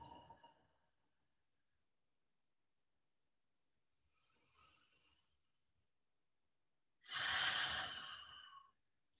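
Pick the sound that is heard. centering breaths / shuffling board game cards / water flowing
centering breaths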